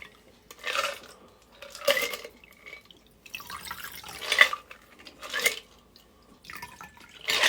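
Strained cocktail poured in a long stream into a glass, heard as a few soft, separate splashing and dripping bursts with light glass and utensil clinks, close and fairly quiet.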